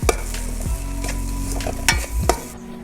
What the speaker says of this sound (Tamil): நல்லா கலக்கிக்கிட்டே இருந்தால் நல்லா வரும்.